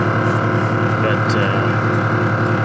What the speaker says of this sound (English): it's got some compressors back here, as you can hear.